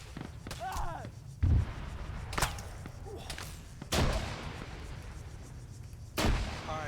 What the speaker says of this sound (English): Team lead from JTAC 3, artillery inbound.